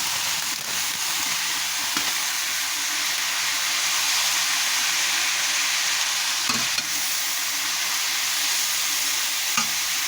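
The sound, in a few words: frying spicy rice noodles in a pan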